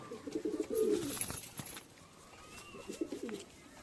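A Madrasi pigeon coos in two soft, rolling bursts close by, with a brief pause between them and some faint background noise.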